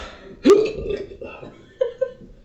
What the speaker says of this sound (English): Hang on, I've got hiccups.